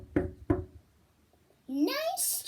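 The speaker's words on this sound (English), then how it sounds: "why do you have to knock on my door every video?" Two sharp knocks on a door, a short pause between them, close and loud, followed by a voice starting to talk.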